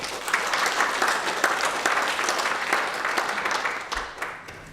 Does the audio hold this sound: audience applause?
yes